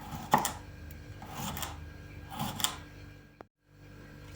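Fresh cucumber cut into thin strips with a knife, three separate soft chopping thuds about a second apart, close and quiet, ending in a brief silence.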